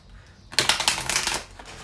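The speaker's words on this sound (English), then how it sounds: "I'm going to do 4 shuffles on this" A single short riffle shuffle of a tarot card deck, a crisp rapid flutter of cards lasting about a second after near silence, close and fairly loud.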